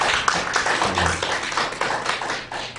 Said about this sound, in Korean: 우리 주님께 박수 한번 해주십시오.